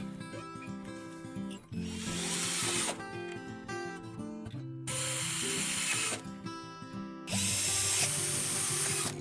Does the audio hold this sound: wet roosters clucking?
no